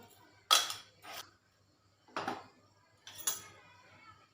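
Instant mango pickle being stirred in a bowl, with a few separate clinks and scrapes of a spoon against the dish, in short bursts with quiet gaps between them.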